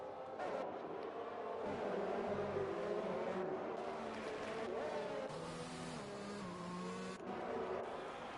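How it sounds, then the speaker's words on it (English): Engine whine of the safety car lapping in the F1 2020 video game at the Spain round, a steady loud drone with shifting harmonic tones throughout, alone without talk. "And the safety car going round for another lap."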